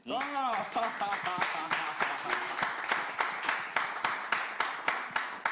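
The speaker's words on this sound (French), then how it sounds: "Est-ce qu'on peut juste applaudir Axel Merrill?" Audience clapping at a live show, heard as a sparse, rhythmic series of claps under a raised voice at the start, settling into evenly spaced claps that slowly thin out.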